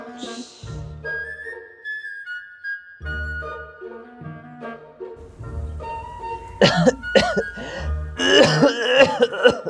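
An elderly man coughs and clears his throat in several harsh, raspy fits, growing louder and more strained toward the end, close by.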